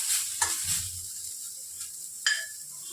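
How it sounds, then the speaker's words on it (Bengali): Ginger paste stirred in a frying pan, a soft sizzle with a few sharp scrapes and taps of the utensil, fairly quiet and close. "আদাটা একটু নাড়াচাড়া করে কাঁচা গন্ধ চলে গেলে"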